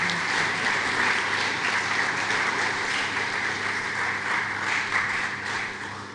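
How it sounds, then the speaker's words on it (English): Audience applause at an inaugural university lecture for visiting senior high school students, a broad sustained wash of clapping from a large crowd, steady and full without a break. "A round of applause for them,"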